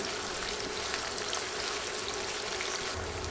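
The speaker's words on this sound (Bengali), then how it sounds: "দুইটা পেঁয়াজ স্লাইস করে কেটে দিলাম পেঁয়াজ নরম হয়ে আসা পর্যন্ত ভেজে নিচ্ছি" Sliced onions fry in a pan as they soften, giving a soft, steady sizzle with a fine crackle throughout, faint and even without pauses.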